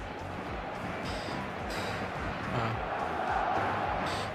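An eFootball stadium crowd roars in a steady, dense wash of cheering and chanting on match day, with brief tonal accents cutting through the constant noise.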